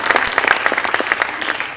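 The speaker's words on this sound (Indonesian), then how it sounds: "Tepuk tangan untuk teman-teman dari DKI Jakarta" Audience applause at a young Indonesian karawitan (gamelan) concert in honor of the Jakarta government delegation, a loud burst of many hands clapping with scattered sharper claps throughout, no talking over it.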